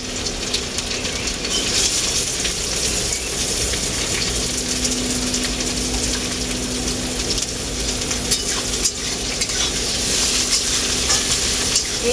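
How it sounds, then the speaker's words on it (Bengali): Chopped onions hit hot oil in a pan, a loud, steady, dense sizzle and crackle that holds evenly throughout with faint stirring scrapes. "তেলের মধ্যে দিয়ে দেবো কেটে রাখা পেঁয়াজ"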